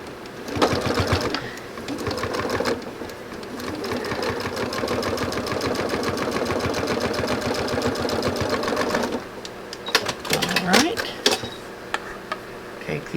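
A domestic sewing machine stitches a quilt block in bursts. A long, steady run of rapid needle clatter comes between shorter starts and stops, and some rustling of fabric handling follows.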